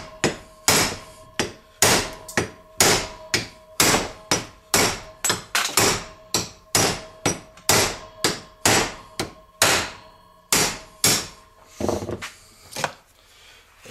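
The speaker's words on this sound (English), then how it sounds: "You just want to smack it right on that weld." A hammer smacks the weld on a scrap transformer over and over, about twenty hard metallic blows in a steady rhythm, loud and close, with a faint ringing tone behind them and no talk.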